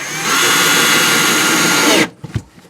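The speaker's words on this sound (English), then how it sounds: "I'm going to have to use my special stub adapter for drilling these ones in, screwing these ones in." A power drill drives screws through a stub adapter bit while an RV dinette is repaired. It gives a loud, close, steady whir for about two seconds, then stops abruptly, and a few handling knocks follow.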